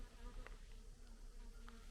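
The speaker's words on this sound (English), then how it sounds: "But look at these bees. Oh, they're buzzing around." Bees buzzing around on a Mount Laguna hiking trail along the Pacific Crest Trail, a faint steady insect drone with brief louder passes close by, over low outdoor background noise.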